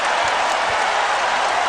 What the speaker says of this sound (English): That draws a pretty good ovation here from the home crowd.